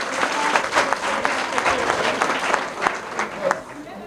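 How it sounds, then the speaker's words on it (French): Crowd applause rings out at a political rally, dense steady clapping throughout with voices mixed in, loud and close. "voilà, on peut l'applaudir."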